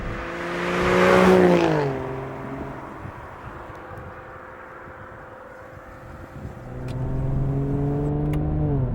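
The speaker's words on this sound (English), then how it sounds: "Another thing that's very, very noticeable on the DB9 GT is the exhaust note." An Aston Martin DB9 GT's exhaust note swells loudly as the car accelerates past, falling away as it shifts, then building again into a strong rising engine roar, with no voices.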